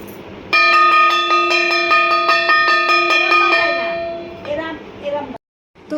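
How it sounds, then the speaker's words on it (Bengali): A brass kansar ghanta, a bronze ritual bell bought for Janmashtami, is struck in a steady run of bright ringing strokes with long overtones, then fades into a few softer clinks before stopping. "আর এই হচ্ছে কাঁসর ঘন্টা, জন্মাষ্টমী উপলক্ষে আমার দিদা কিনে এনেছিল"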